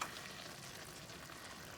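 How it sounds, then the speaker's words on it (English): Spicy eggplant and tofu simmer in a pan, giving a faint, steady bubbling sizzle with no talking. "And I'm just gonna let this simmer a little bit longer."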